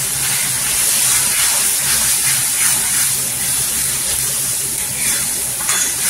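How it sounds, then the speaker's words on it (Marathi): Dry spices, Kashmiri red chili powder, Agri masala and kitchen king masala, frying in hot oil for a dry prawn sukat, giving a steady close sizzle and hiss throughout with no talk. "इथे सुके मसाले तेलावर परतून घ्यायचं"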